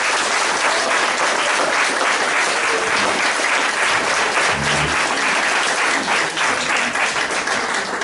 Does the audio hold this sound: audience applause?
yes